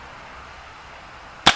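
Umarex Makarov Ultra CO2 blowback BB pistol firing a single sharp crack near the end after a quiet stretch, close and loud with a brief snap of blowback.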